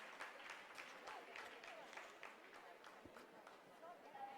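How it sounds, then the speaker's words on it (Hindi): A room of scientists applauds after a spacecraft lander finishes a descent phase, with steady continuous clapping from a crowd heard at a distance and quite faint. "आप इस तालियों के गड़गड़ाहट को सुन सकते हैं"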